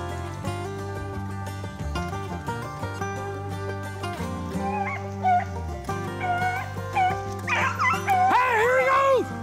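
Rabbit hunting dogs bark, yip and whimper nearby, high excited yelps and whines rising in intensity toward the end over a steady background tone.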